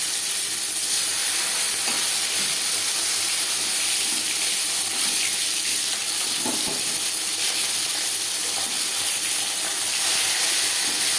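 Fish sizzles and hisses in hot oil in a pan after being flipped during fish curry cooking, a loud, dense, continuous frying crackle with occasional small pops.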